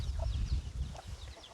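An Orpington hen named Arwen clucks near her coop, a few soft low clucks in an irregular rhythm, close by with faint outdoor background.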